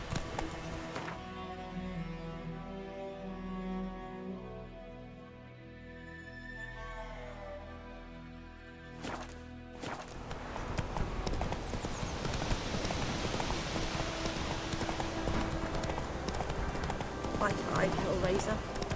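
Horse hooves gallop in The Witcher 3 video game, rhythmic clip-clop that rises louder and faster in the second half, after a stretch of music and ambient game sound, with brief speech.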